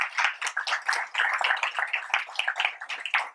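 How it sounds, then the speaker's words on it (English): A small group claps at a grant recipients gathering, sparse and uneven with distinct individual hand claps rising and falling rather than a full crowd roar. "So let's give them a round of applause."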